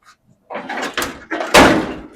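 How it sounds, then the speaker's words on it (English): A worn truck cab door on a cab being restored, its bottom sagging so it won't fully shut, is swung and pushed closed in a few loud knocking thuds, the heaviest near the end, close by with no talk. "The door won't even really shut"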